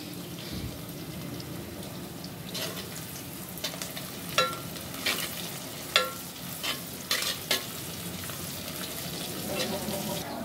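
Black cumin seeds go into hot oil for a tempering and set off a continuous near sizzle, with a scatter of distinct crackles and spatter pops bunched through the middle.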